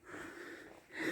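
A dog breathes heavily and close by on a town walk in Sanremo, with raspy, wheezy pants that swell louder toward the end.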